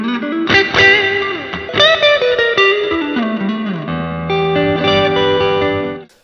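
An electric guitar plays through a fuzz setting on a French-made Blobnarök amp simulator, loud and dense chords and notes ringing out one after another, then cutting off abruptly at the end, with no voices.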